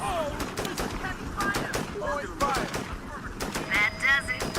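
Full Spectrum Warrior video game combat, with fire teams shooting in sharp bursts of gunfire mixed with game sound effects and chirps, under speech.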